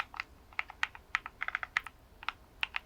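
Brisk typing on a computer keyboard, close up, with irregular clusters of crisp key clicks and short pauses between bursts, no voices.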